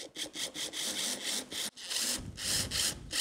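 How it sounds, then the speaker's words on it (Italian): A screw extractor bit driven in reverse rotation against a damaged screw gives a close, harsh grinding rasp in quick rhythmic pulses, briefly cutting out midway before resuming stronger. "proverò ugualmente a utilizzare l'estremità dove c'è l'estrattore vero e proprio, sempre in rotazione contraria"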